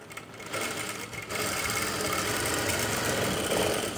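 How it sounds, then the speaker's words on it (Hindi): Sewing machine stitching a seam on ladies' pants, a steady close mechanical whirr that starts hesitantly, pauses briefly, then runs continuously and evenly, heard alone with no voices. "उसके बाद इस सिलाई को भी यहाँ से लगा लेंगे"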